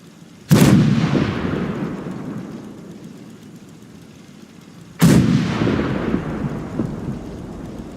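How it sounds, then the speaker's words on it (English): Two heavy artillery blasts in the Fallout 4 video game, each a sudden booming crack that rolls out into a long rumbling decay, the second about four seconds after the first, loud and with no voices. "All batteries, prepare to fire on my mark."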